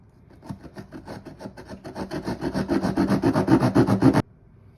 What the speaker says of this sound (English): take our Leatherman saw and we're going to just start sawing right through this.